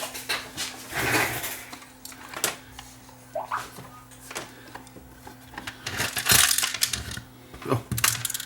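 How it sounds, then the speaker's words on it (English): Small plastic pieces tumble and clatter out of an opened Technicolor 4K cable box in scattered light clicks and rattles, close by, with handling noises between the bursts. "Oh, plastic pieces are falling out already."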